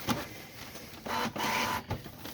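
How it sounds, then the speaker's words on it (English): A Canon MG5220 inkjet printer feeds out a test page, with mechanical whirring and clicking feed motor bursts in short repeated pulses, close and moderately loud, with no talking. "So the page is coming out"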